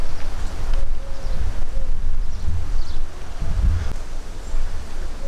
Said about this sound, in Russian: дует ветер, такой бриз с моря.